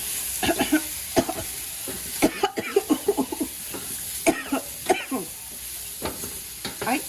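Potatoes fry in a pan, turning golden, with a continuous sizzle under frequent close stirring clatter and scraping, and a few short sharp bursts.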